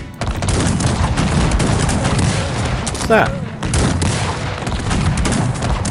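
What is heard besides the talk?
cannon fire in video game Cossacks 3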